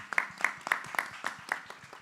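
Audience round of applause at a startup fair stage panel, a few sparse, evenly spaced claps standing out clearly, fairly faint and thin rather than a full crowd roar.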